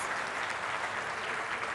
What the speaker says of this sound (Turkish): onlara da bir alkış gönderelim buradan